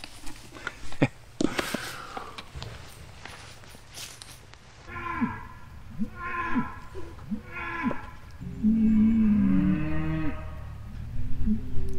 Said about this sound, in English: Sorry for all the cow noises.